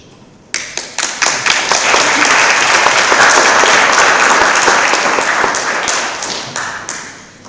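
Loud, dense applause breaks out from a conference audience honoring the organizing committee, starting with a few sharp claps, swelling into sustained clapping and tapering off with scattered final claps.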